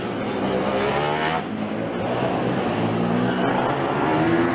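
Formula Student race car from the Milan team lapping during the FSG18 combustion endurance event, its engine note steady and fairly loud with continuous harmonic whine, no talk over it.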